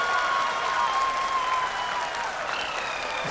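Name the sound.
people applauding lander landing telecast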